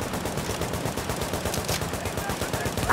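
Machine gun fire in The Division, a rapid, evenly spaced stream of loud shots that continues without a break.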